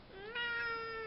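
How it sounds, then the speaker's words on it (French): A pet cat held in someone's arms lets out a single drawn-out meow, clear and close, rising slightly and holding steady. "Je sais pas comment tenir mon chat"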